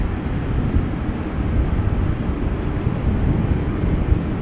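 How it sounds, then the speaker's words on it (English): A steady, heavy jet engine roar of an airplane departing Amsterdam Schiphol Airport fills the air, a dense low rumble holding constant without voices. "a high likelihood that it is going to take off from runway 24 then"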